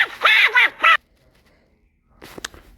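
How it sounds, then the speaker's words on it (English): Cartoon Donald Duck quacking in a burst of three or four raspy, nasal squawks up close, then a pause and a fainter, shorter squawk near the end. "Just look at that miserable duck."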